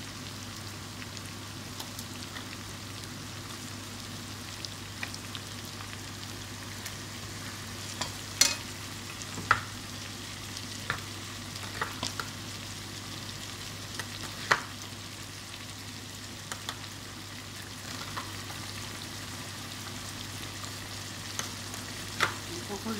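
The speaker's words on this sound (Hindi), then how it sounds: "तो मैं कैन टमाटो ही डाल दूंगी।" Canned tomatoes frying and being stirred in a karahi for butter karahi, a soft, steady sizzle with scattered faint ticks and scrapes from the spoon, heard alone without talk.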